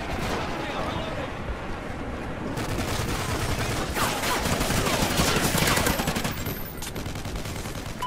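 Continuous automatic gunfire and explosions from the video game Call of Duty Ghosts, dense and loud throughout, with a player's voice talking over the battle.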